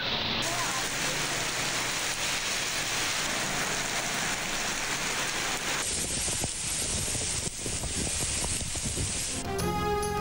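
Steady, dense rain falls on surfaces in Lahore, a continuous loud hiss with spattering drops and no clear thunder, heard alone.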